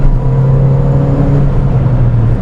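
MINI John Cooper Works GP2 engine and exhaust droning at a steady, loud, low pitch from inside the cabin while driving, with no voices.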